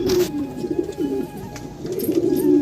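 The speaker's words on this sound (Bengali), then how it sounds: "এই পায়রাটা বহু পুরনো পায়রা, প্রায় 14 বছর, 13-14 বছরের পায়রা।" Old pigeons, around thirteen to fourteen years of age, coo in low, repeated rolling phrases that carry steadily throughout, close by and fairly loud, with no voices.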